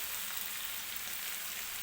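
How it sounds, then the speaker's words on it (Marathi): Cauliflower and potatoes, already fried, are dropped into hot spiced oil in a pan for a Marathi-style curry, giving a steady, soft, broadband sizzle that runs the whole stretch with no voices. "आता आपण जो फ्लॉवर आणि बटाटा तेलामध्ये परतून घेतला होता तो मी टाकून घेते"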